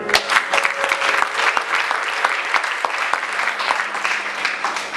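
A church congregation breaks into sustained applause, a dense, even clapping from many hands that fills the room for several seconds.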